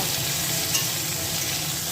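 Steady, close sizzling of pointed gourd and potato frying in hot oil, a continuous crackling hiss with no voices.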